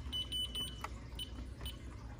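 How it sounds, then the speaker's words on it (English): An Ademco Vista 10SE alarm panel keypad gives a series of short, faint electronic beeps in an uneven rhythm over low background hum. "and the keypad beeped"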